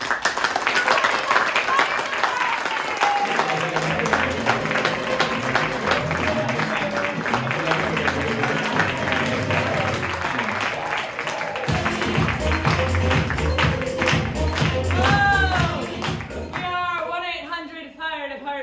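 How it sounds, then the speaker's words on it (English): An improv comedy holiday show audience clapping together in a steady rhythmic beat with music underneath, loud and continuous, then fading out as the performers start talking. "if we can all put our hands together and start clapping"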